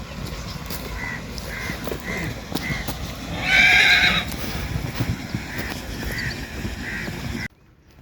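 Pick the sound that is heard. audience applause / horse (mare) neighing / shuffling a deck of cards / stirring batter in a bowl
horse (mare) neighing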